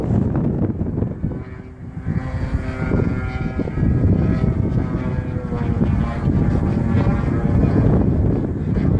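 An EF MXS model airplane flies on a windy day, with a steady propeller drone heard from a distance under heavy wind buffeting on the microphone.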